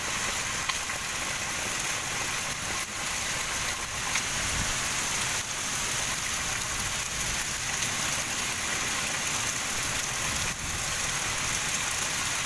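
Heavy rain driven by strong wind during a storm: a dense, steady hiss of downpour that fills the whole stretch, with a faint low rumble underneath and no voices.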